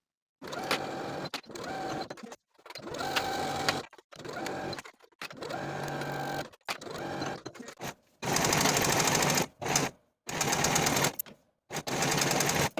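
A home sewing machine stitches the shoulder and side seams of a 1960s tie-collar bodice, running in several loud, steady bursts of rapid needle chatter with short pauses between them, no voices.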